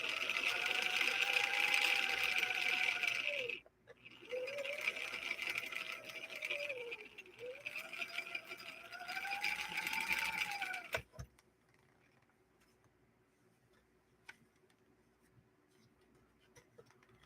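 A domestic sewing machine runs steadily after an adjustment, with a loud, even motor whir that dips in pitch a few times as it slows and speeds up. It then stops abruptly, leaving near silence with a few faint clicks.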